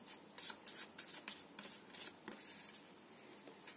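Tarot cards shuffled for a reading, a rapid series of crisp papery riffles and slaps close by, fairly quiet and continuous for a few seconds.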